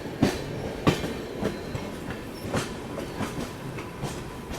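A passenger train runs on a parallel track beside an express, its wheels giving a steady clickety-clack of rhythmic thumps at close range with continuous rumble.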